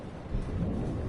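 Thunderstorm in the Life is Strange game: a low rolling rumble of thunder swells after a brief moment over steady rain, loud and close, with no voices.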